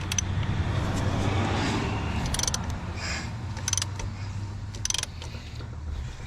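A Toyota 1KZ-TE diesel engine with a new head is turned over slowly by hand with the glow plugs out, giving a quiet continuous mechanical turning sound with a few faint ratcheting clicks, and no talk.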